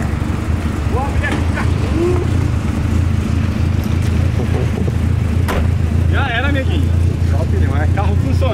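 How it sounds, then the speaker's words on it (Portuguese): A turbocharged VW Gol's engine runs steadily close by, a constant low rumble holding through the whole stretch while several people talk over it. "Carro funcionando."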